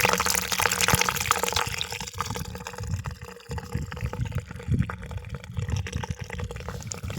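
Water flows and gurgles into a snake burrow in a farm field, a steady close trickle with splashes and bubbling, and no voices.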